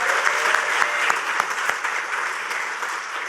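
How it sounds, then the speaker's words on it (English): Loud, close applause at a security conference welcoming a keynote speaker, many hands clapping with distinct sharp claps over a dense steady wash. "Could you give him a round of applause?"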